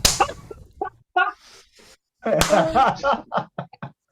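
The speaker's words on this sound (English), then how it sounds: "I can hear him clapping." A few sharp hand claps ring out in quick bursts, mixed in with people talking over them.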